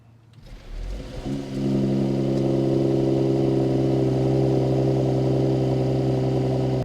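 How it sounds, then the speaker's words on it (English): A Mercedes-AMG GT43 engine cranks and fires up from near silence, surging briefly before settling into a steady, loud idle hum close by, with no one talking. "Okay, let's start it up and then try."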